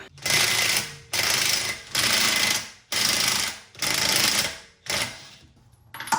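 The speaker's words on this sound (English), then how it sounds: "So I'm gonna just have to undo two screws, undo this ball joint right here, and we'll make our adjustment." Tools working on a Honda Prelude camber kit's screws and ball joint: five or six loud bursts of an impact wrench or air tool, each about a second long with short gaps, close by and with no talk.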